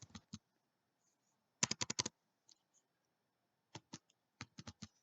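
Keys clatter on a small computer keyboard in short bursts of quick taps, close and fairly quiet, with pauses between the runs.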